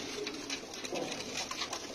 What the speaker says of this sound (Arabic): هاي وجوها الطيور كلها طيرة وفحل